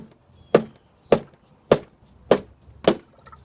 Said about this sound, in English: I'm just going to hit on the side of the head